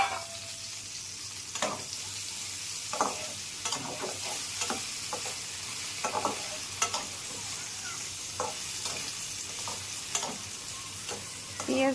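Fried potatoes with onion and green chili in a pan, a steady low sizzle broken by repeated sharp scrapes and knocks of stirring, close and alone without talk.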